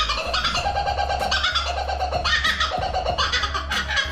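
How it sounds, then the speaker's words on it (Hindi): A laughing kookaburra calls in a loud, continuous cackle, with rapid rising and falling bursts over a steady low background hum and no speech. "लाफिंग कूकाबुरा, जब ये अपनी आवाज निकालता है तो ऐसा लगता है कि जैसे जंगल में कोई चुड़ैल जोर जोर"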